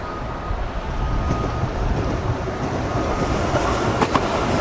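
A DLR light rail train passes nearby in London, a loud, continuous rumbling roll with faint rail clatter that holds steady throughout.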